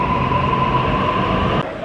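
An underground train at Wynyard station in Sydney rumbles loudly and steadily with a sustained tonal whine, then drops off abruptly near the end.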